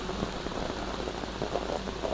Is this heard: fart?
no